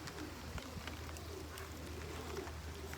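Soft pigeon coos repeat close by over a steady background hiss of rain and a low hum.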